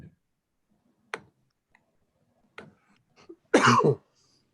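A few sparse, faint coughs and throat clicks spread across quiet on a Zoom meeting call, ending in one stronger, close cough with a rough, throaty burst.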